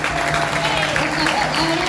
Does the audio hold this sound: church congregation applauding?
yes